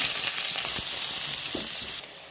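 Onion hitting hot oil with dried red chillies, bay leaves, cardamom, cloves and cinnamon, giving a bright, steady sizzle. Soft stirring knocks sit underneath, and the sound drops off sharply near the end.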